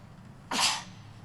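One sharp, breathy sneeze bursts out against a quiet room hum.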